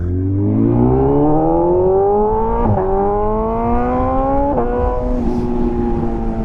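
A BMW M1000R motorcycle accelerates hard toward top speed down a hill road, its engine climbing in pitch through two quick gear shifts, loud and steady close to the rider.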